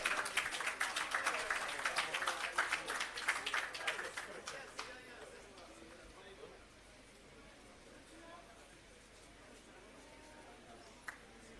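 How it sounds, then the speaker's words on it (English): Audience at an agricultural irrigation system commissioning and agro park launch clapping in a round of applause, a dense patter that fades out after a few seconds, leaving quiet room tone with faint voices. "Both of them, please give them a round of applause."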